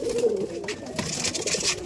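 Giribaz pigeons cooing at a Bangladeshi pigeon loft, a steady low murmuring coo running through the clip, close and fairly loud, with faint higher rustling and chatter in the background.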